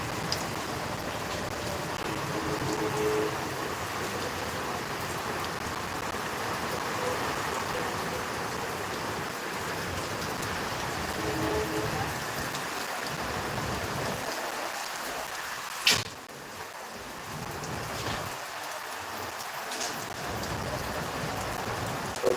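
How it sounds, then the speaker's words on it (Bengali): Rain falls in Rajshahi in a steady, dense hiss for the whole stretch, with a sharp knock about two-thirds through and no talking. "এমাত্র শুরু হলো বৃষ্টি"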